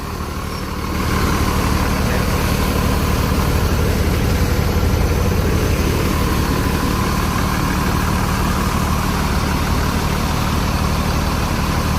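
Steady low bus engine rumble idling continuously at close range, a constant drone with no talk over it.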